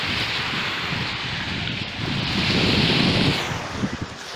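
Surf and wind on a Baltic Sea beach at Zelenogradsk, a shore lined with breakwaters: a continuous wash of waves rolls beneath gusty wind buffeting the microphone, swelling slightly toward the end, with no voices.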